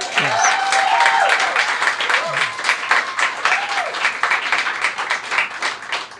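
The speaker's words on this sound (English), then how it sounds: "Give her a round of applause." Concert audience applause, loud and steady, a crowd of many hands clapping continuously, with a few whoops and voices rising over the clapping throughout.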